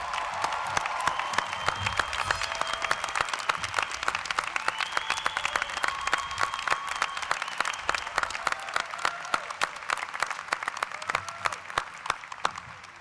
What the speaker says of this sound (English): And let's everybody give them a round of applause and appreciation.